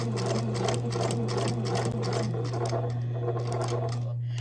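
A sewing machine runs continuously with a steady hum and rapid rhythmic stitching clatter, stopping abruptly near the end.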